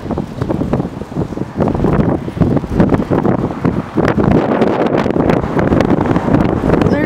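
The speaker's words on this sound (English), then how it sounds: "is it windy and stormy and cold out here?" Strong gusting wind in a downtown snow squall in Kincardine, blasting and buffeting the microphone in loud, uneven surges with rumbling low roar and no talk.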